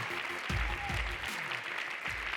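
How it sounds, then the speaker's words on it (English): An audience at a youth poetry slam claps steadily, a dense patter of applause with a few louder thumps scattered through it. "And please keep clapping for your next poet, Aya."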